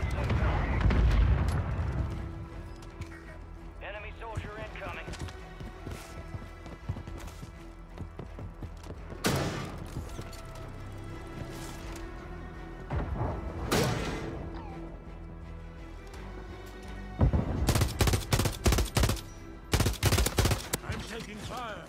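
Call of Duty Warzone gunfire comes in scattered bursts and single shots, ending in a rapid volley of close, sharp shots, with impacts and game sounds between and people talking over it.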